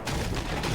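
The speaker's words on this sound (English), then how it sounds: "this guy starts shooting at me" Enemy gunfire in Fortnite, a rapid burst of shots lasting under a second, loud and close with no talk over it.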